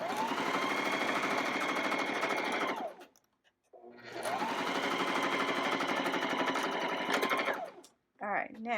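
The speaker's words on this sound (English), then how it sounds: "now we're going to sew up the cotton together" A sewing machine stitches cotton fabric for a wet bag, running in two long steady bursts separated by a short pause, close and loud, with a brief softer sound at the end.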